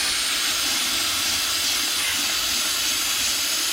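Brake parts cleaner forced through an oil separator hose gives a steady, close, loud aerosol hiss and spray that runs unbroken for the whole stretch, with no talking.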